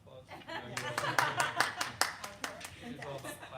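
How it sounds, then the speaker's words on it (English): Room full of people at a Board of Education meeting clapping in a steady round of applause, with chuckles and voices mixed in underneath. "Katrina, did you want to give another round of applause?"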